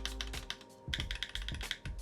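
Keys clack on a Bakeneko 65 mechanical keyboard fitted with PBT keycaps, a quick run of close, deep-toned taps with a short pause partway through.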